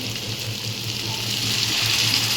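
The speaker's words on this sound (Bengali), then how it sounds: "বেশি জল দেবো না অল্পই জল দেবো" Water pours steadily into a pan of spicy dry shrimp chorchori as it cooks, a continuous close gushing hiss that swells slightly toward the end, with no talking.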